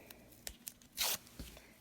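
A few short soft crackles of tape being handled, then one quick close rip as a strip is pulled off the roll, followed by a faint thud; quiet and otherwise still.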